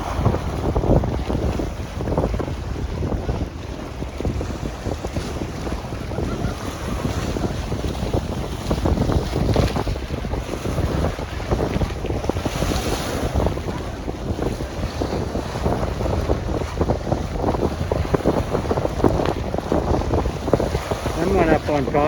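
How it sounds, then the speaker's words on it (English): Big waves and strong wind at a pier on Lake Chapala, Mexico: a steady, loud roar of wind buffeting the microphone over crashing swells fills the whole stretch, with no voices. "Those are pretty big waves."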